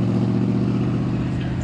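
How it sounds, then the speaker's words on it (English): Cars on Highway 70 drone past in a steady, fairly loud engine rumble that holds without a break. No voices are heard. "You can hear cars going by behind the camera."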